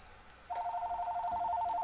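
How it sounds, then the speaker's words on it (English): A mobile phone starts ringing partway through with a steady, repeating electronic tone, loud and alone after a quieter stretch. "Oh, and there goes my phone."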